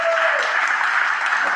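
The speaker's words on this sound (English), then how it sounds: "Let's give them a big round of applause" Applause for political candidates at a district committee meeting, a dense steady clatter of clapping hands filling the room at even loudness throughout, with a hint of voices mixed in.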